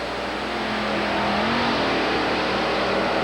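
The Overkill monster truck's engine revs loud and close in a stadium, a sustained throaty roar that climbs in pitch and holds steady, with no talk over it.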